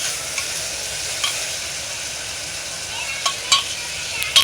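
Garlic chutney sizzles steadily in a hot pan, a dense continuous frying hiss with a few soft clinks and scrapes of stirring scattered through.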